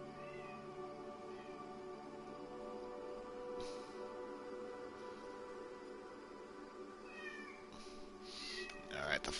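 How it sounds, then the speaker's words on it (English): A cat meows in long, drawn-out calls, loud and close, with a sustained caterwauling tone running for several seconds and a sharper cry at the end. "Listen to my cat just fucking meow."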